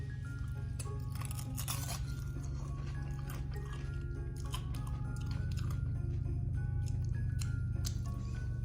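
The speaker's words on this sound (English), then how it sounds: "I like the added crunch with it." Kroger plain pork rinds with dip are bitten and chewed up close, with loud, continuous crisp crunching over a low steady hum.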